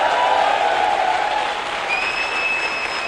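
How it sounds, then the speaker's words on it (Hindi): Audience applause at a networking seminar, a continuous wash of many hands clapping at close range, with a couple of high whistle-like tones sounding over it partway through. "मैं चाहूंगा जोरदार तालियां"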